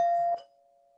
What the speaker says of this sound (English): My doorbell rang, but we froze